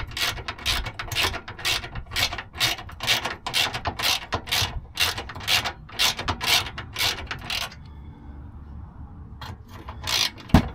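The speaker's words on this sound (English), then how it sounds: "I'm going to use a hand wrench now" A hand wrench ratchets rapidly as it snugs up the spare tire carrier bolts on a Land Rover LR4/LR3, with steady clicking bursts for about eight seconds, then a pause and a few final clicks.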